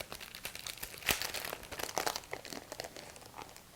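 A die-cut cardstock piece is popped out of its sheet, giving close, faint crinkling and papery snaps in an irregular series of small crackles.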